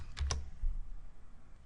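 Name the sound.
computer keyboard key press, Delete key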